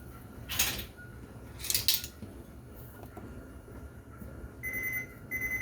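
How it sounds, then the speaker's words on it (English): A kitchen timer goes off while toffee bars bake, giving faint repeated high electronic beeps near the end after a couple of brief clinks of utensils, over low background noise. "There's my timer."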